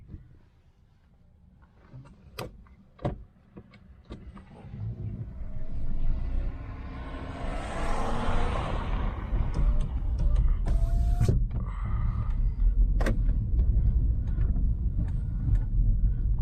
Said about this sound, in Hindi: चलो अब यार इसको चला के देखते हैं कि गाड़ी मतलब दब तो नहीं रही